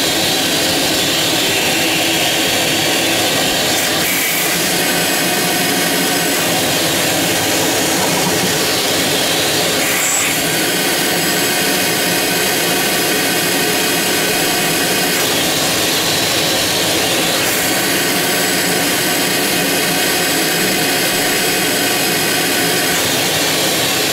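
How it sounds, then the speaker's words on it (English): A shop vacuum pulls on a clogged central AC condensate drain trap, coupled through a rubber hose. It gives a loud, steady, roaring whoosh that runs unbroken for over twenty seconds, close up, with no talking. "we'll put the vacuum to it. Maybe we can see if we can pull that trap"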